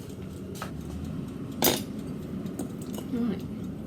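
A spoon scrapes and knocks against a bowl while mixing a set-solid mixture of honey and other ingredients. Several short clinks and one louder scrape stand out against low background noise.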